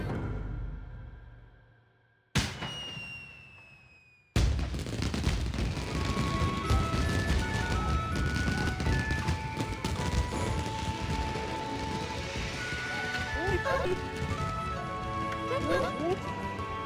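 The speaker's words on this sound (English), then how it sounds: "Fireworks." Fireworks exploding in the video game Okami HD, a sudden burst of crackling bangs after a short quiet stretch, continuing as a dense festive barrage under game music.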